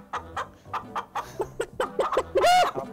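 Chicken clucking in a series of short, rhythmic bursts near the listener, ending in a louder, drawn-out squawk, with no talking over it.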